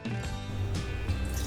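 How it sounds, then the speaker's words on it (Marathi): Water is poured into a cooking pot already holding tulsi leaves, curry leaves, mint leaves, turmeric, coriander seeds and cardamom for herbal tea, giving a steady close splashing pour with a couple of brief louder gushes. "आता त्याच्यात 3 पेले पाणी ओतलंय"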